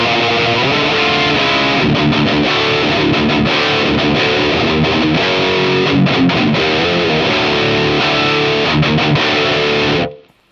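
An electric guitar played through an Abasi Pathos distortion pedal gives loud, saturated, buzzing chords and riffs in choppy bursts, ending in abrupt silence.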